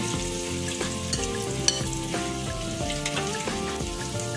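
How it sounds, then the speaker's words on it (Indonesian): Lemongrass, bay leaf, galangal and ginger sauté in about three tablespoons of hot oil, giving a steady, close, dense sizzle and crackle with faint stirring scrapes, no voices over it. "Kemudian ini serainya, daun salam dan lengkuas, jahe ditumis ya sampai harum"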